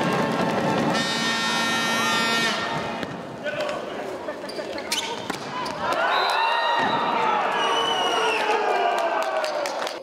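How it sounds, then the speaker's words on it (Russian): Volleyball arena crowd cheering loudly in bursts during a match between Yugra Samotlor and Fakel, with a commentator's voice talking over the noise throughout. "в случае удачных действий хозяев трибуны взрывались радостью"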